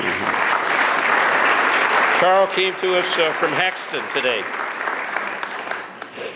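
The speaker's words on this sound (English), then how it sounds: "let's give a round of applause to these donors" Donors at a community lifelines gathering receive loud, dense audience applause that dies away after a couple of seconds, and a single voice then speaks over the last scattered claps.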